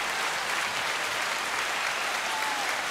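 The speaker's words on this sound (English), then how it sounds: "Not a long fucking applause." Applause from a crowd, a dense steady wash of many hands clapping, heard faintly and evenly with no pauses or voices on top.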